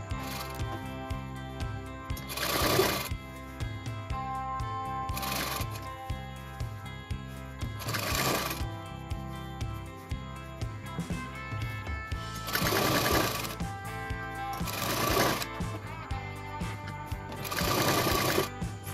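Sewing machine stitching the sides of a frill frock, rapid close mechanical whirring in repeated bursts separated by short pauses, no talk.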